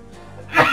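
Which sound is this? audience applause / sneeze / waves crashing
sneeze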